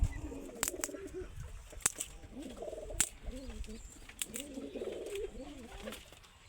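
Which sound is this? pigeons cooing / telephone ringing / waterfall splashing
pigeons cooing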